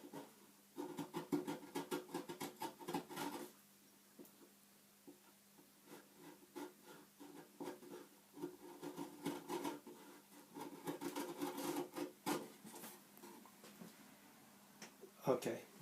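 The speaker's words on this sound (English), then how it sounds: "I'm pressing into the chisel to make sure that it's flat against the side" A chisel pared by hand along the neck of a classical guitar gives soft, intermittent scraping and rubbing strokes in bursts, fairly quiet, with pauses between passes.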